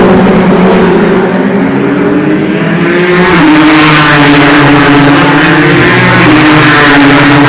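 Toyota race cars at the 24 Hours of Le Mans, a loud sustained engine roar with shifting revs, one car's pitch rising and sweeping past close by over a constant racing drone.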